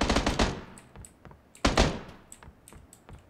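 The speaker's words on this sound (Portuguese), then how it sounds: "Tá muito perto de gente esse tiro, hein?" Gunfire in a multiplayer shooter video game comes as two sharp bursts of rapid shots, loud and close, with scattered fainter single cracks between and after them, and no voices.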